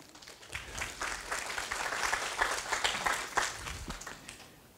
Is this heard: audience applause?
yes